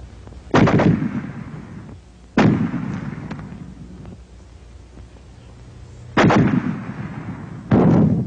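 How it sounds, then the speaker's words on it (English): Fragmentation grenades exploding in a WWII film: four sharp, loud blasts at uneven intervals, each trailing off in a rumbling decay. "The fragmentation grenade."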